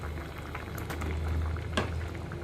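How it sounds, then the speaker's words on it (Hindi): Oil-free arbi (taro root) masala curry simmers on low heat in a pan, giving a soft, steady bubbling with occasional small pops, quiet and without talk. "अब इसको कम सेक पर पकने देंगे जब तक कि अरबी में सारे मसाले अच्छे से"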